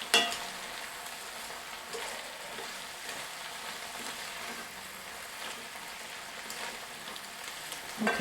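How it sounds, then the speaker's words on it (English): Sausage sizzles in a pot while starting a hearty potato soup, a steady crackling fry that holds evenly throughout with no talking over it. "I'm going to let it sizzle a minute."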